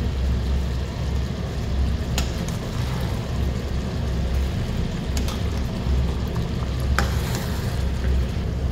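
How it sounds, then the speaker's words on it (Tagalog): Afritada stew bubbles and sizzles in a pan as it is stirred, a steady close crackling frying texture with occasional sharp clinks of a utensil against the pan, no voices present. "Ito pwede na natin yung haluin."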